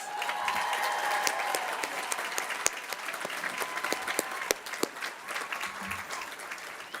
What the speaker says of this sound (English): I ask the class of 2024 to give them a big round of applause